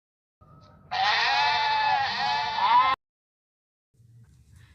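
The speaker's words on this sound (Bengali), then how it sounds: "ভেড়া, ভেড়াকে ইংরেজিতে কি বলা হয়? শিপ।" A sheep gives one long, wavering bleat lasting about two seconds, loud and close, set against near silence.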